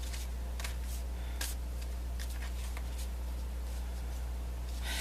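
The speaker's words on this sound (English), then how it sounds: "So I usually shuffle until I get a feeling from the cards that we are ready" Soft, quiet riffling and sliding of a tarot deck being shuffled by hand, a series of brief papery bursts spread irregularly, close and faint over low room hum, no talking.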